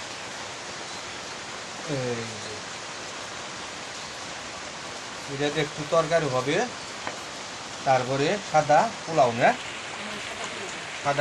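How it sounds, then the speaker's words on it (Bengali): Rain falling steadily in a village during cooking, a broad even hiss of downpour throughout, with someone speaking intermittently over it. "এই যে রান্নার টাইমে বৃষ্টি নামছে"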